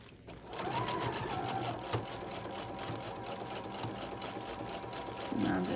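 Steady, close whir of a sewing machine running a straight stitch through tissue paper laid onto fabric for a jar opener, continuous and even with a low hum throughout, a soft voice briefly audible.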